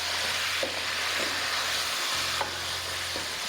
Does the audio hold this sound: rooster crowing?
no